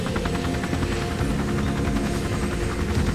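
A helicopter flies steadily in a Turkish TV drama scene, its rotor chopping as a continuous loud, close thrum with no talk.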